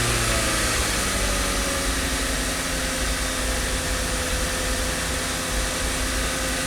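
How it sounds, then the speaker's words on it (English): A 2014 VW Jetta with a GDI turbo engine, running stuck rich with an intermittent misfire and low power, held at raised RPM: a loud, steady, dense engine drone with a faint whine, no talk. "I'm gonna raise the RPMs a little bit."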